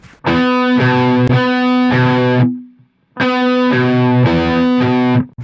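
A distorted electric guitar plays a chugging riff in two bursts with a short gap between, loud, dry and close, with no phaser sweep.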